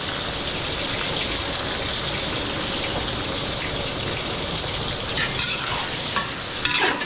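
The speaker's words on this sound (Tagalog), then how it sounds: "igigisa natin sa patis yung chicken pastel" Chicken pastel sautéing in fish sauce in a restaurant kitchen: a steady, loud sizzle and frying crackle with stirring scrapes, plus a few sharper clinks toward the end, no voices.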